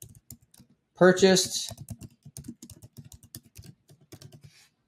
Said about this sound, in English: We just type in here what we want.